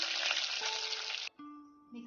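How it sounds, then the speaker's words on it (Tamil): Loud, steady sizzling of onions and curry leaves sautéing in a pan, which cuts off abruptly, then returns faintly over a low tonal hum. "ஒரு 2 நிமிஷம் நல்லா வதங்கட்டும்."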